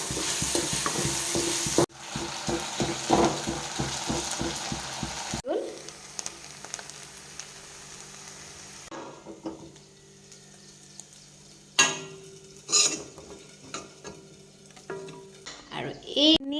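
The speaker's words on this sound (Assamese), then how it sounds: "ভাজি আছোঁ অকণমান ৰঙা পৰিছে বাৰু" A mashed fish mixture for Assamese fish pitika fries in a pan with a low sizzle, interrupted by stirring and scraping clatters and brief pauses, close-up and without speech.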